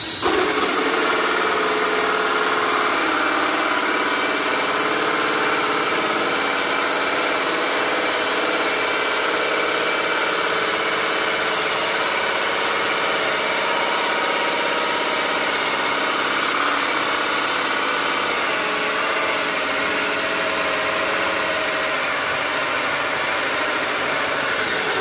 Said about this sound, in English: And I'm going to drill right here.